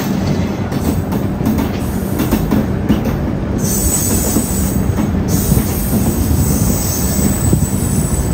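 The Jodhpur to Kacheguda Hisar Special Express rolls along slowly, heard as a loud, continuous rumble with steady clatter and high metallic wheel squeal throughout.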